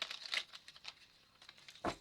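Tarot cards are shuffled by hand in a few short papery riffles and crinkles, close and fairly quiet, with no talk.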